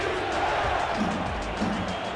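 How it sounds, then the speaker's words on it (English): A stadium crowd at Wentworth during a football game roars steadily as the home team faces third and goal, a dense, sustained wash of cheering with no clear breaks. "Crowd at Wentworth rises."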